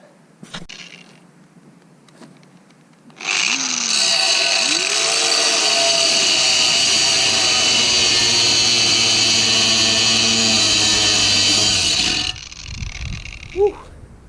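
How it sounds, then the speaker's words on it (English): An angle grinder cuts through metal on an Astra VXR exhaust. It spins up with a loud, steady high-pitched whine and grinding rasp for about nine seconds, then winds down, close by. "get L grinder and get rid of that bugger"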